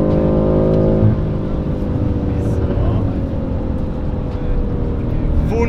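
A BMW M5 F90 Competition accelerates hard, its loud engine droning steadily with a rising pitch from inside the cabin. Occasional voices are heard beneath the engine.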